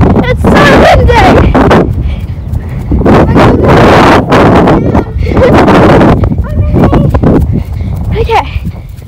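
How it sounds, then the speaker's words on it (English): Strong outdoor wind buffeting a microphone, a loud continuous roar with gusty surges throughout, under people talking and calling to each other. "It's so windy!"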